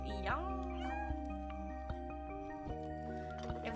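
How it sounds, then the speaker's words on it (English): A cat in the video game Stray gives a short meow early on, set over a steady tonal game soundtrack with a few soft clicks and thumps. "It is a cat on a hot tin roof!"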